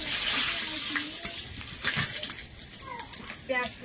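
Five-spice seeds and bay leaf sizzling in hot oil in a wok, a loud crackling fry at first that settles to a steady sizzle, with someone talking over it.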